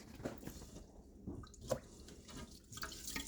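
Food is rinsed under running water to wash out the starch, giving quiet splashes, drips and squishy sloshing in a sink, soft and irregular, with a few sharper splashes standing out.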